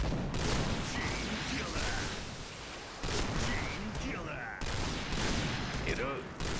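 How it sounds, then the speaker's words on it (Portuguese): Rapid bursts of gunfire in the video game Point Blank crackle in quick succession, a dense fusillade broken by brief gaps, loud and continuous. "Olha o tiro, olha o tiro, mano."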